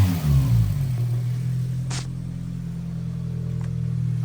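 A Mitsubishi Evo engine revving up then settling into a steady drone, with a brief high whine and small ticking noises from around the turbo area; close and loud.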